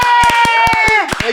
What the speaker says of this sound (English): Wow, ada tepukan gemuruh.